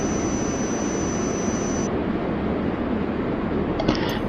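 A JetBlue jet airliner takes off at JFK, a steady, loud broadband engine roar that holds constant throughout with no break.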